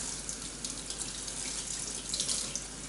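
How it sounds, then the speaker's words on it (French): Food is rinsed under a running kitchen tap, a steady, close stream of water splashing into a sink for the whole stretch with small shifts in the splashing and no talk. "Et je rince."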